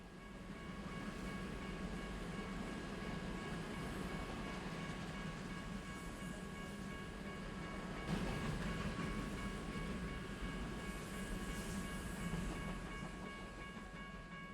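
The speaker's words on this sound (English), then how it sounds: "Here comes those new 50-foot box cars" In the Roblox Ro-Scale game, a freight train of 50-foot box cars rolls past with a steady, continuous rumble and rail noise. It sounds fairly close and stays even throughout, with a faint bump near the middle.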